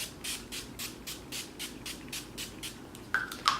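Urban Decay All Nighter setting spray misted in a rapid series of short, soft hissing pumps, close and fairly quiet, with no talking.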